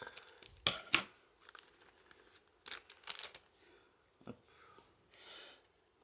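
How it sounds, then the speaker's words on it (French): Scissors snip open a stubborn Yu-Gi-Oh Maximum Gold El Dorado booster pack, giving a few sharp close cuts and crinkles, spaced out with short rustles between them and quiet gaps. "on va prendre les ciseaux cette fois parce que celui-là ne va pas s'ouvrir."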